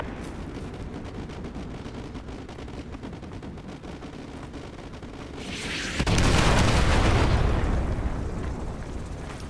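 In the war game Call of Duty: Modern Warfare 2, an artillery strike sets off a loud explosion roughly two-thirds through, bursting into a sustained roar over a dense background of distant battle rumble.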